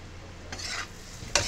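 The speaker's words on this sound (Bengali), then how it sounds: "দিয়ে একটু ভালো করে নেড়ে নিচ্ছি" Potatoes sprinkled with black pepper powder sizzle in a frying pan, with two quick spatula scrapes stirring them over a low, steady hiss.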